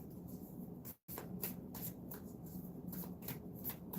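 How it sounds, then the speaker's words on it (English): A deck of tarot cards being shuffled close by, with repeated riffling bursts and a brief gap of near silence about a second in, no speech over it. "to shuffle them up a little bit"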